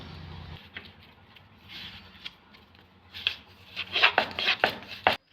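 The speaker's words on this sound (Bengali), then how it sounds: "একটা বেলেছি, এরকম করে বাকিগুলো সব বেলে নেব।" Egg roll dough being rolled out with flour on a board, soft scraping and rubbing strokes that start faint and grow louder and more rhythmic toward the end, with brief quiet pauses.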